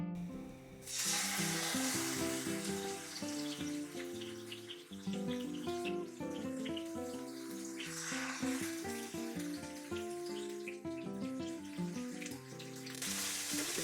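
Tandoori-marinated chicken fries in a few spoonfuls of hot oil in a non-stick pan on the stove, giving a soft, continuous sizzle under steady background music, with no talking.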